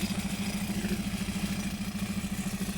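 Several Sonalika tractor engines run at a stone quarry, making a steady, throbbing mid-pitched drone with a fast regular pulse under broadband mechanical noise, with no speech.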